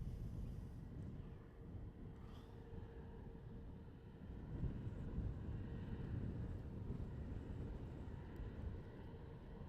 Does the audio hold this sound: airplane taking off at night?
yes